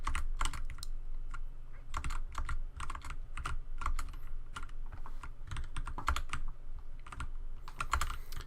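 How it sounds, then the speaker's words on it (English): Fast, steady typing on a computer keyboard while playing Dwarf Fortress, with dense clicking keystrokes in quick bursts, close-up and continuous with no voices. "I have both hands on the keyboard."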